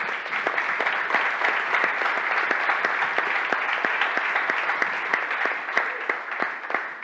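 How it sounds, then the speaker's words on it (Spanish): Church congregation applauding during a service, a steady sustained round of many hands clapping at moderate volume, with no talk over it. "damos un aplauso por este varón que levantó su mano"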